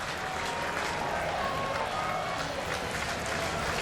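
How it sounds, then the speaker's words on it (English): Baseball crowd of Cubs fans at a stadium game against the Pirates, a loud sustained roar and applause throughout, filling the space. "Cub fans on their feet."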